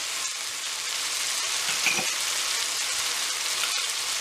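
Chili powder, turmeric and other spices frying in a pan make a soft, continuous sizzle with light scraping from stirring, fairly close, no speech.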